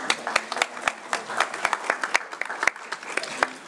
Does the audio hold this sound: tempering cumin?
no